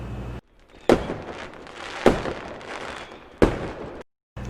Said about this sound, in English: fireworks popping